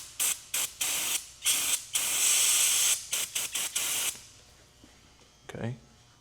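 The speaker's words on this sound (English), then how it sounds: "A little bit of brake clean." Brake cleaner hisses from an aerosol can onto a Jeep ball joint in a series of short loud bursts followed by one longer spray, then fades to quiet with a faint clunk near the end.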